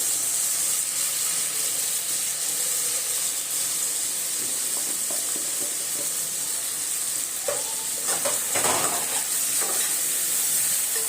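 Spices, salt, sugar and chilli frying together in a pan for Bengali dhokar dalna, a steady loud sizzle with hiss and occasional stirring scrapes running throughout, no voices.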